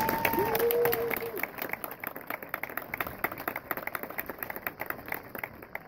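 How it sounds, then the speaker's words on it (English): Fans at a high school homecoming football game clap steadily in the stands, a dense, crackling round of applause that carries throughout, with a brief amplified announcer voice at the start. "Fans, please join me in saying thank you by giving a much-deserved round of applause."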